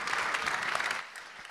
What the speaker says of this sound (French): Je vous demande d'applaudir Hugo, Wiley, Frowen et Eugy